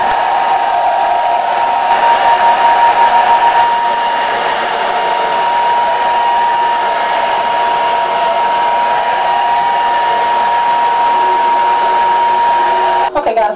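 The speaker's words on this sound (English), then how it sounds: "I'm not sitting up on the dryer for about 30 minutes to an hour" Hair dryer running at close range, a steady loud whirring blow that holds constant for the whole stretch with no break, then a brief shift right at the end.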